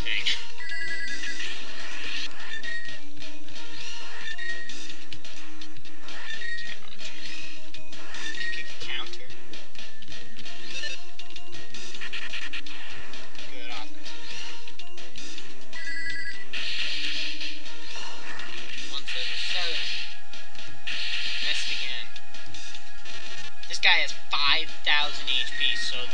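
Battle music and attack sound effects from the video game Mother 3, a busy chiptune-style riff with bright repeating tones and bursts, loud and continuous throughout.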